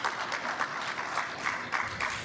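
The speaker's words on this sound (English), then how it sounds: "let's give them a round of applause" Brief round of steady audience applause at a trade and investment forum after a panel discussion, moderately close and continuous with no voices over it.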